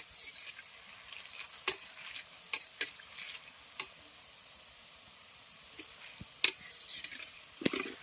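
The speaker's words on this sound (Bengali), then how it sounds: "এবার হালকা একটু লাল করে বোঁদেগুলোকে ভেজে নিচ্ছি" Boondi fry in oil with a faint, soft sizzle in the background, broken by scattered sharp clicks and taps of a spoon or ladle against the pan.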